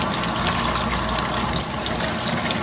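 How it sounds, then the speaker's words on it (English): Tap water runs steadily over Vidalia onions being rinsed by hand, a continuous close splashing gush with no pauses. "Give them a good rinse."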